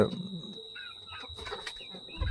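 Chickens cluck softly in a poultry shed on a small local farm, scattered faint calls under a steady high whine and background noise.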